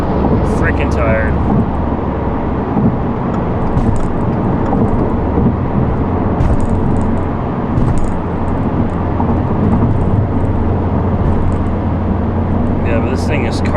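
A 2022 Subaru WRX carves along a mountain pass at night, its engine a loud, sustained drone with rushing wind noise filling the cabin throughout.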